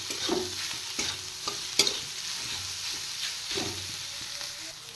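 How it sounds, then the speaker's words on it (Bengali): Spiced food frying with salt and chili powder, stirred in a pan: a continuous close sizzle broken by repeated scraping strokes and a sharp clink near the middle. "এবার আরেকটু ফ্রাই করে নেব।"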